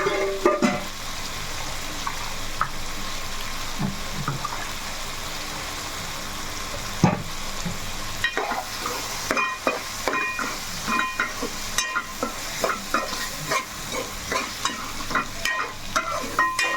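Ground masala frying in a pan with prawns, stirred steadily: a continuous sizzle with repeated scraping strokes of the spoon that grow quicker and more rhythmic toward the end, with no talking.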